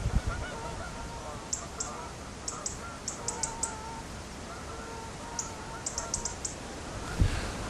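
Canada geese honk as they set off from a flooded stretch of the lower Severn, a scatter of short nasal calls in small clusters, fairly distant and partly buried under steady wind noise.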